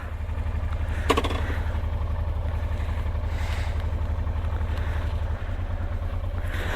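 A rebuilt Honda Transalp motorcycle engine runs steadily at a loud, close idle with an even, throbbing pulse and a brief clattery burst near the start, with no talking.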